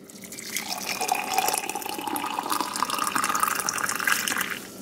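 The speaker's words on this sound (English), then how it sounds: "And I'm just gonna pour the already boiled water." Water pours in a steady stream for several seconds, its gurgling pitch rising slightly as the cup fills, close and fairly quiet.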